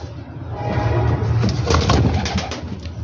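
Teddy pigeons in a breeder's loft in Faisalabad, including a crested hen, give a continuous soft, low cooing that sits close and fairly loud, with a steady murmur of bird calls throughout and no talking.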